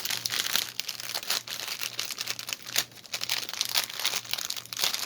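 Plastic packaging of a diamond painting kit with round drills being crinkled and handled close up, a continuous crackling rustle with sharper crunches at irregular moments.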